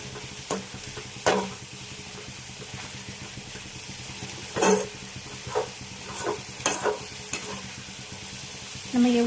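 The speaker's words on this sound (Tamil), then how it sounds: "நம்ம கீரையை நல்லா வதக்கிட்டே இருக்கணும். ஏன்னா நம்ம ஹை ஃப்ளேம்லேயே வச்சுருக்கிறோம்." Spinach sautés on high flame in a pan with a soft continuous sizzle, broken by several sharp scraping stirs of a spatula at irregular intervals.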